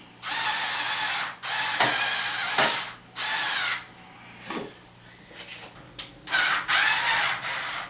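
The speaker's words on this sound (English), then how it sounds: "we're going to very quickly shoot in some screws here" A power drill drives screws into a computer case in several loud bursts of whirring, each a second or so long, separated by short pauses and small ratcheting clicks, with no talking.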